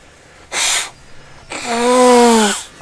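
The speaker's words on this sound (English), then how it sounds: "Oh, I gotta blow my nose." A short sharp blast of breath, a pause, then a longer honking blow through the nose, loud and close.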